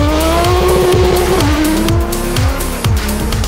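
A Renault Clio ice racing car slides on ice during the Trophée Andros at L'Alpe d'Huez, its engine revving hard and loud with shifting pitch and repeated bursts of throttle as it drifts.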